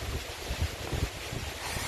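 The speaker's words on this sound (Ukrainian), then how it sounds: "Сьогодні в лісі гарний вітер свище" Steady wind whistles, rushes and gusts through a forest, with soft low rumbling buffets against the microphone and no voices.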